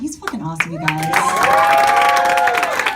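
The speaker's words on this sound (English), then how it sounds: "Can we give one more round of applause for Pat?" Comedy show audience at an improv graduation show applauding and cheering loudly and steadily throughout, with a voice shouting over the crowd noise.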